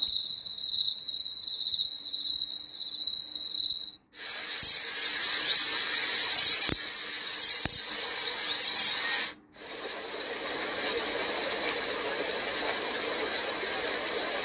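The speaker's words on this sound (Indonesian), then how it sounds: "Lalu kemudian jangkrik." Cricket nature sound from a star galaxy night projector, a steady high electronic chirping trill that shifts into a hissy noise track partway through and then changes again, continuous and fairly quiet with no voices.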